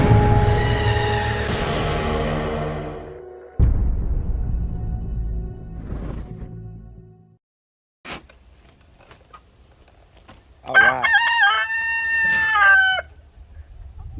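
A rooster crows loudly nearby, then after a pause hens cackle and squawk in a shrill burst; a voice speaks briefly in between.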